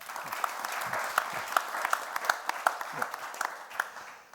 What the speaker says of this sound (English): let's give an applause to Alex